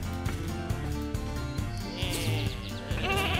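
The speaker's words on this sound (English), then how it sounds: "there's a sheep or a goat" Sheep in the video game Lumberhill bleat several times in wavering cries, close and fairly loud over steady game sounds, with higher bleats toward the end.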